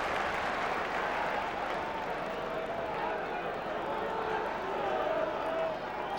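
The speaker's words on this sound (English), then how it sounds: "Sell-out crowd at Hillsborough," A sell-out football crowd at Hillsborough for a First Division match between Sheffield Wednesday and Manchester United, a broad continuous roar and murmur from the packed stands, steady and loud throughout.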